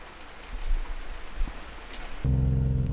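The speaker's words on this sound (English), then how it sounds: "It is so raining." Steady morning rain falls at Ritchie Bay in Barkley Sound, a close, continuous hiss and patter with a few heavier drops, thickening into a louder, fuller downpour near the end, with no voices.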